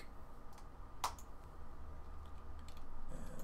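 Soft keyboard typing at a computer during a visual effects production session, a few faint scattered key clicks with one sharper tap, quiet and close over low room hum.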